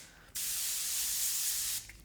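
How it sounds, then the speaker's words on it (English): Laura Mercier translucent setting spray misting, a single close, steady hiss lasting about a second and a half that starts and stops abruptly. "It's the translucent setting spray mist"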